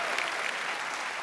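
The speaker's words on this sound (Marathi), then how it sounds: "अरे जरा जोरदार टाळ्या झाल्या पाहिजे।" A studio audience at a live Marathi comedy show claps steadily, a dense, even wash of applause filling the whole short moment without any speech.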